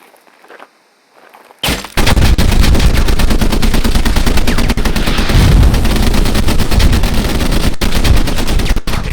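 Video game live fire exercise: after a brief quiet start, loud sustained automatic gunfire breaks out, fast repeated shots with booming low impacts continuing steadily to the end.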